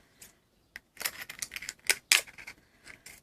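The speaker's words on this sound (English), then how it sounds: "I'm going to cut a bit of this off." Scissors snip a piece off a plastic bottle in a series of sharp, close crunching cuts, irregular and clustered with brief quiet gaps between them and no voices.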